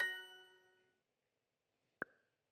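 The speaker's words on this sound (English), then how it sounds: "Notice that the chime gets a little higher. We're starting to celebrate you a little bit more." A bright ringing chime from the Duolingo app's celebration sound decays over about a second, followed after a pause by a short second tone, clean and alone.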